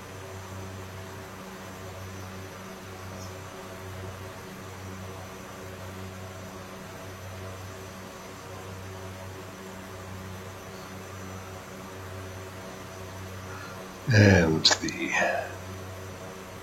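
Inside a propeller aircraft cruising with props pulled back to 72 for economy, the engines hold a steady droning hum throughout, with a brief voice and a short rustle near the end.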